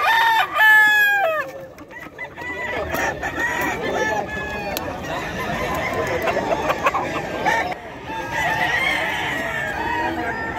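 Roosters crow again and again at a busy chicken market in Bocaue, loud and close, over a steady din of clucking fowl and a murmuring crowd.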